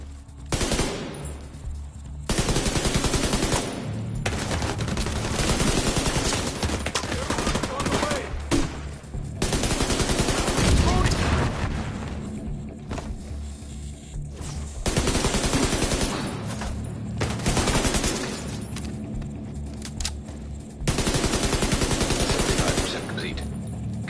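Sustained automatic gunfire from The Division 2 video game comes in long, loud bursts of rapid shots separated by brief pauses, with voices heard between and under the firing.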